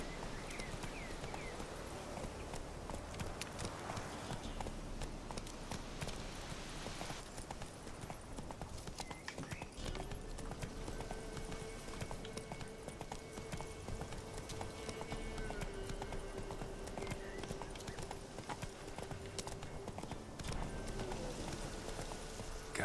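Hooves of Roach, the horse in The Witcher 3, beat a steady, faint clip-clop throughout, with soft game ambience and a sustained tone drifting in partway.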